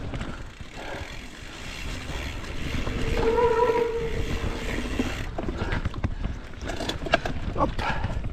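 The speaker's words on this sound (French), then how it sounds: "Et là, il y a vraiment un énorme vent." Strong wind roars steadily through a pine forest near Saint-Malon-sur-Mel, France, a dense rushing noise that swells and surges in gusts, with no voices.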